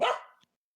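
A single short dog bark, sharp and fairly close, fading within half a second into silence.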